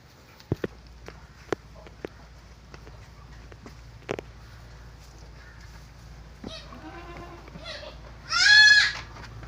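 Lambs and goat kids bleat on a sheep and goat farm: a few scattered clicks and knocks first, then a run of bleats near the end, closing with one loud, close, drawn-out cry.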